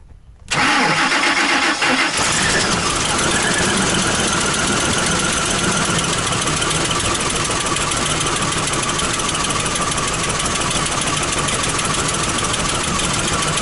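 A Ford E350 van's 3-valve engine, run by a 2-valve computer, cranks briefly and catches, then settles into a loud, steady idle that carries on alone to the end.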